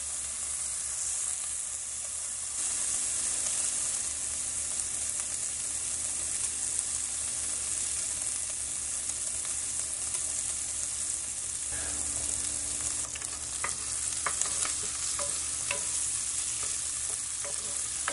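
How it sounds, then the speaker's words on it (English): Bacon sizzles steadily in hot oil in a Dutch oven, a constant bright crackling hiss with occasional sharper pops, close up and with no talking. "We hear that beautiful sizzling sound"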